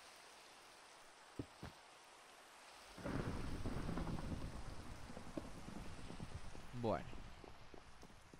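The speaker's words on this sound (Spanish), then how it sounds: "No, no es un aplauso, se ha largado a llover." Quiet room tone gives way to a sudden onset of heavy rain and rumbling in Minecraft, steady and dense, with a brief voice speaking over it.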